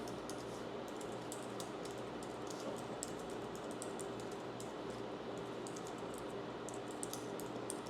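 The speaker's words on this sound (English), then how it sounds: "now you're going to type in your personal information" Personal information is typed on a computer keyboard, giving rapid, fairly quiet key clicks in an even stream with no pauses, no one speaking.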